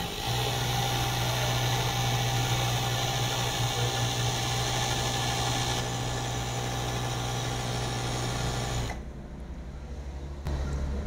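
A Pegasus R57 overlock sewing machine runs with a steady motor hum and whir for most of the clip, cuts out near the end, then briefly starts again.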